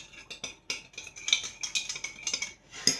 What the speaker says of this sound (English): I'm going to give it a little bit of a stir.